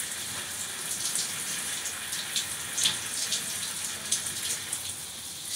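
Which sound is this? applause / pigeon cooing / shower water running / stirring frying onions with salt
shower water running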